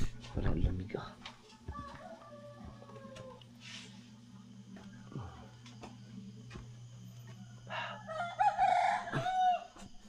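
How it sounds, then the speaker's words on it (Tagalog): Rooster crowing in Mindanao, a single strained crow near the end, faint and distant over low steady background hum, scattered rustles and brief human voices. "May manok din pala sa Mindanao."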